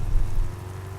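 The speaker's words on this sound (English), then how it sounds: "it took me some time to notice that it is actually raining." Rain in Euro Truck Simulator 2 gives a steady, even hiss over a low rumble, like drops drumming on a truck cab, continuous and close for a brief moment with no speech.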